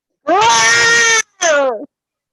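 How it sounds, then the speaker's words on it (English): A black cat lets out a loud, ferocious yowl: two close, drawn-out wailing cries, the first long and the second shorter and falling, with a brief gap between them and no talk. "suddenly there is a ferocious yowl"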